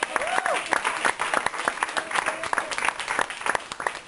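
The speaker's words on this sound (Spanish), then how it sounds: "Yo que usted le diera un aplauso al Señor." A church congregation claps steadily together during a Sunday sermon, a sustained wave of applause with a voice faintly present underneath.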